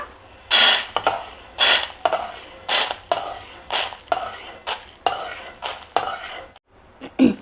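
A metal spoon scrapes freshly roasted ingredients for mango rice spice powder out of a pan onto a plate, about ten sharp scraping clinks in an uneven rhythm.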